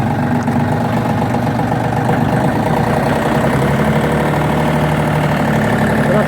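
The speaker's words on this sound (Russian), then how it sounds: "Работает двигатель очень ровно. Достаточно тихо работает двигатель." A Yanmar AF-322 Japanese mini tractor engine runs steadily and evenly at idle, a constant low rumble with no breaks and no voices.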